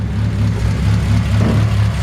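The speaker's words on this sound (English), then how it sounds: "Super smooth running engine." A 1950 Ford F-1 panel truck's low-mile rebuilt engine idles with the hood open, giving a steady, smooth, even hum close by with no voices over it.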